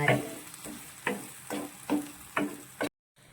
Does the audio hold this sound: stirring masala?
yes